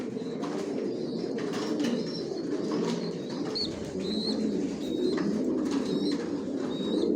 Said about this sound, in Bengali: এখানে যে কবুতরগুলো দেখতেছেন এগুলো রেস্টে দেওয়া আছে, এগুলো বিডার।